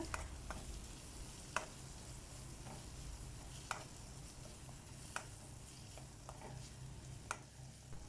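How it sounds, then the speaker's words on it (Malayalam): Carrots sautéing in a pan for a green apple and carrot achar: a faint, continuous low sizzle with occasional sharp ticks and taps of a spoon against the pan. "നന്നായിട്ട് വഴറ്റിയെടുക്കാം."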